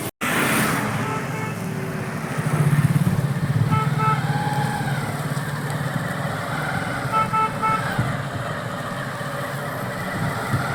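A modified reverse-driving vehicle on a main road near Bhadravathi, Shimoga, passes with a steady engine drone, horn toots and surrounding traffic noise, fairly loud and close throughout.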